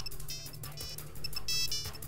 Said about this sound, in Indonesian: Nggak lama, telepon saya berbunyi.